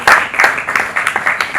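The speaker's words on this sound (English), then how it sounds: "Can we give her a round of applause, please?" Short burst of audience applause at a tourism media roundtable event: brisk, close clapping from a small group, lasting under two seconds.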